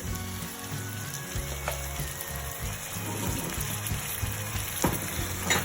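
Garlic ginger paste fries for a spicy pepper mutton roast, producing a steady close sizzle while a spoon scrapes and stirs it around the pan, with no talking.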